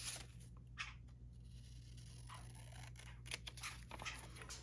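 Scissors snip off a small piece in a few quick, crisp cuts close by, over a steady low electrical hum with faint rustling between the cuts.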